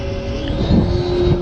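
An airplane engine in a flight simulator game drones steadily and fairly loud, with a constant tonal hum over broad rushing noise, swelling slightly midway.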